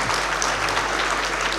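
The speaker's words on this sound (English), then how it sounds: "Can we clap hands for her?" A steady wash of audience applause in a lecture hall during a spring lecture session, even and moderately loud for its whole short span, with no one talking.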